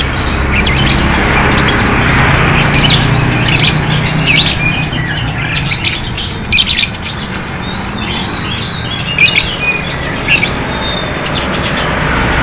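Many caged songbirds at a cheap bird market in Gisting chirp, tweet and squawk in a dense overlapping chorus, with busy market background noise underneath and occasional sharper calls rising close by.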